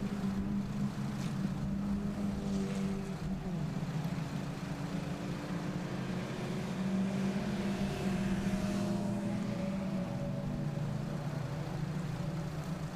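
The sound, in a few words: Ford Fiesta Zetec race cars racing on track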